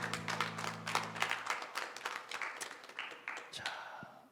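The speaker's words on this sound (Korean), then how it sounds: "하나님 아버지께 큰 박수로 영광을 올려드리겠습니다." A church congregation gives a round of hearty applause, dense clapping that swells and then thins out over a few seconds, with a voice briefly audible at the start.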